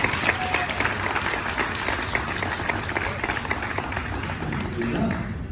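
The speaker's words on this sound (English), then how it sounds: "I have one more round of applause" An audience at a glass making show gives loud, steady applause that stays dense and even throughout.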